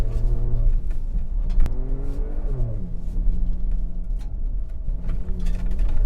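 A Ford Ranger Raptor engine revs hard and holds high revs while drifting, its pitch climbing and dropping through repeated throttle surges, loud and close with tire and wind noise around it.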